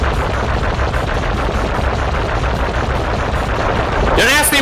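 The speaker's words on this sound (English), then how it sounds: "Just shoot the pillar." Rapid, continuous gunfire rattles loudly throughout as a pillar is shot in Sly Cooper and the Thievius Raccoonus, with a brief whooshing effect at the very end.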